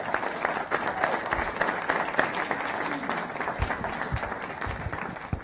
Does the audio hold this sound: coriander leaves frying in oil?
no